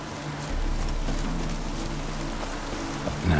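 Rain falls in The Witcher 3 video game as a steady, even patter of drops that holds for a few seconds without any voices.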